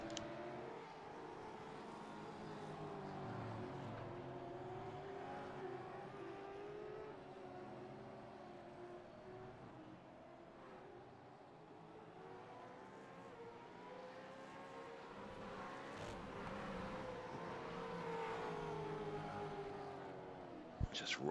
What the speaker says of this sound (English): Just watching the final few cars sort of come around to those last turn 12 moments and get to that start finish line